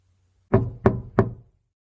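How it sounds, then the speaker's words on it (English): Three firm knocks on a door, evenly spaced and close by, each with a short hollow ring, followed by quiet. "Another knock."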